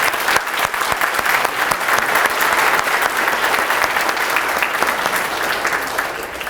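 A large audience gives loud, dense, sustained applause at a university aquatic conservation center ribbon cutting, with continuous close clapping for several seconds and no voices over it.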